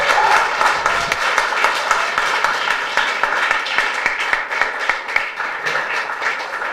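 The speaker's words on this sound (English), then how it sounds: "again, big applause for Elisabeth Shimana." Loud, sustained audience applause after a public lecture, dense crowd clapping close by for several seconds, with scattered sharper claps standing out and no talk over it.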